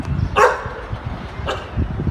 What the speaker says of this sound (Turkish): Çok, çok tatlı köpek var.